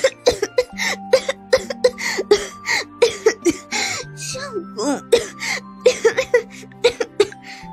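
A woman coughs repeatedly in a bathroom beside a bathtub, with close, loud, uneven bursts and catching breaths that come in quick clusters and then pause.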